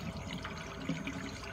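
Water trickles and drips faintly from a leak in the plumbing of a 40-gallon breeder reef tank, a soft continuous splashing at low level.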